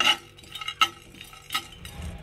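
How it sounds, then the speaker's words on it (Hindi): A spoon stirs garam masala as it roasts in a pan for mutton cheese kabab, with a few sharp metallic scrapes and clinks over a soft, faint sizzle and no talking. "तो देखिए गाइस, इस तरह से हम भून लेते हैं सारा गरम मसाले को।"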